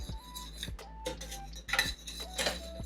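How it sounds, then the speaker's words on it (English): Metal utensil stirring a thickening sauce in a pan, with repeated scraping clinks against the pan at an uneven rhythm, close and moderately loud. "Again, make sure you are continuously stirring."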